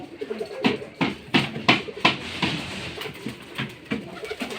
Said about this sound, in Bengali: দেখেন কবুতরগুলো ছেড়ে দিচ্ছি।